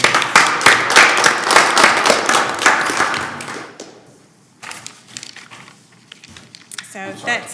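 Dense clapping from a room of attendees at a planning commission meeting, loud and steady for several seconds before fading out, followed by quiet shuffling and a voice resuming.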